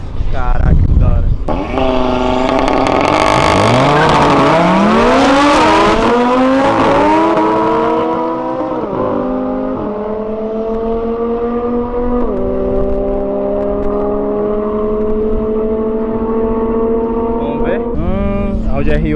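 An Audi R8 and an Audi RS3 in a half-mile drag race: engines rev hard and climb through several gears, then hold a long loud drone as the cars pull away, with people talking over it.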